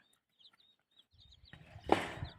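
Soft clucking from chickens, a few low calls building into a louder burst near the end, with faint chirps in the background.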